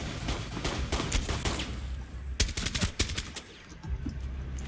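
Rainbow Six video game gunfire: dense bursts of rapid automatic shots over a constant noisy background, loud and close, with a heavier cluster of sharp reports midway before the firing thins out.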